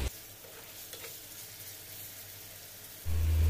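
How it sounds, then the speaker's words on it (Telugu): Chicken pieces frying with ginger paste in a pressure cooker, a soft steady sizzle with faint stirring scrapes, ending in a louder burst of frying near the close. "వాష్ చేసి పెట్టుకున్న చికెన్ వేసేసుకోవాలండి. ఇప్పుడు వేసుకొని బాగా ఫ్రై చేసుకోవాలి."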